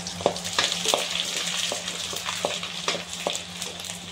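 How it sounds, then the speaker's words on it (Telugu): Garlic frying in oil for a prawn pickle, a close, even sizzle with intermittent sharp stirring taps against the pan, no voices. "ఈ వెల్లుల్లిని కూడా ఇప్పుడు మనము ఆయిల్లో వేసి వేపుకోవాలి ఫ్రెండ్స్"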